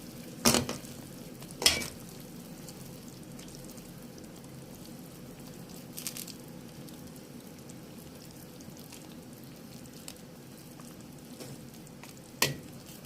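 Soft, steady sizzle of patola, misua and malunggay cooking in a pan, with a few brief scraping stirs and clinks standing out near the start and end, no talk.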